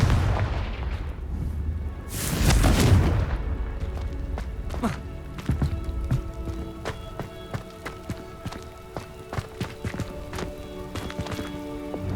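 A Confringo fire spell blasts in the video game Hogwarts Legacy, with a loud booming explosion early on that fades into a long run of quick, light footstep-like taps and clicks.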